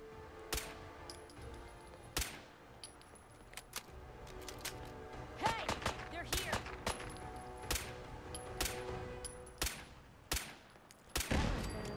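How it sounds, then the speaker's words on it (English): A machine gun turret in Fallout 4 fires repeated sharp bursts of gunfire, with irregular rapid cracks spread across the whole stretch at moderate loudness, mixed with other game sounds. "It's another machine gun turret."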